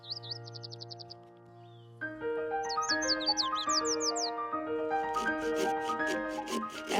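Forest birds sing at Bear Spring in Arizona's Huachuca Mountains: several species overlap with clear whistled phrases, rapid trills and high chirps, close and bright against a quiet backdrop, with the chorus growing busier toward the end.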